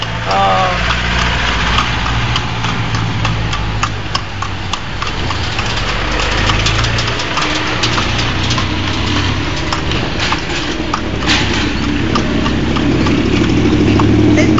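Horse hooves clip-clopping steadily on pavement while pulling a kalesa carriage, loud and close, with an engine idling and traffic noise underneath throughout.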